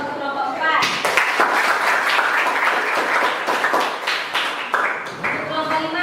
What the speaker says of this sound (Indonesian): kita aplaus untuk kelompok 4